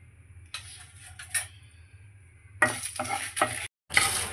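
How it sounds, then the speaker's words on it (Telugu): Dried red chillies, coriander seeds and cumin seeds dry roasting in a pan, with a faint low hum and bursts of stirring scrapes and rattling seeds, close by and alone. "ముందుగా మనం కొన్ని ఎండుమిర్చి, 1 స్పూన్ ధనియాలు, 1 స్పూన్ జీలకర్ర వేపుకొని"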